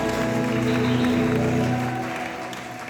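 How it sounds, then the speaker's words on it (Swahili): Sustained applause from a church congregation with a low hum of music or voices beneath, fading slightly toward the end. "Twakupigia makofi."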